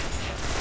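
Gunfire in a first-person shooter video game with heavy ammo, heard as a loud, dense, continuous burst lasting under a second, with no talking.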